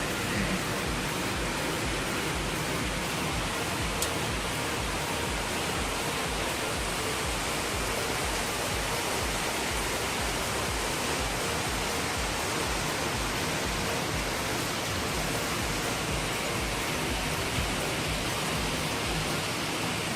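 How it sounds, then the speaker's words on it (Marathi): Monsoon rain falls steadily, making a dense, even hiss that continues without pause for twenty seconds. No voices are heard. "पावसाचा आनंद घ्या"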